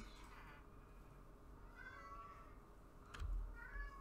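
Two Minecraft cats meow together in a video game, short soft mews a few times against a quiet background hum, with a louder thump near the end.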